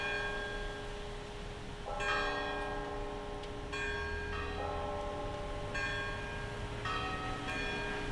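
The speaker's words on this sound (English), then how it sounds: "That's the bell tower of the basilica. It is high noon, and we should have 12" Church bells in a basilica bell tower in St Augustine, Florida ring at noon, with several strikes spaced about two seconds apart, each leaving a long ringing hum over a faint outdoor background.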